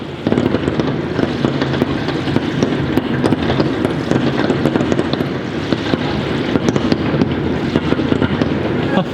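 Chinese New Year fireworks bursting just outside an apartment, a loud, dense, continuous crackle of rapid firecracker pops and bangs that lasts throughout.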